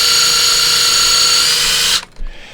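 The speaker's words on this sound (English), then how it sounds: "we're going to set up the drill hole, we're going to move our precious digits out of the way, and then we're going to push through gradually." An electric drill bores a hole through a plastic kit, a loud steady high-pitched whine held for about two seconds before cutting off abruptly, then a brief rattle.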